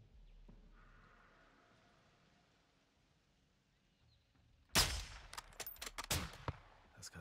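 Quiet low hum, then a sudden sharp blast followed by a rapid volley of loud gunshots and cracks, close and punchy, in the video game Call of Duty: Modern Warfare II.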